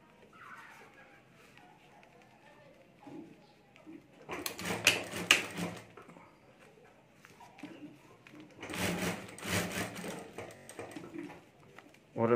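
A domestic sewing machine stitches around the top of a lined fabric mobile phone cover in two separate bursts of rapid mechanical chatter, with soft handling sounds and a faint background in the gaps.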